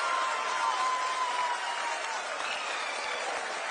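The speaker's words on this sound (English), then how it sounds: "People are applauding." People applaud during a live ISRO broadcast of the lander module touching down near the moon's south pole. Steady, faint-to-moderate clapping carries through a broadcast feed for a few seconds with no voices over it.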